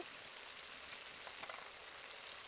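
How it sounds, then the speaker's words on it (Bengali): Spices frying in oil with softened tomato and garlic paste for a bitter gourd dolma, a steady close sizzle and crackle running unbroken throughout, with no voices. "এবার ভালো মতো তেল ছাড়া পর্যন্ত কষাবো"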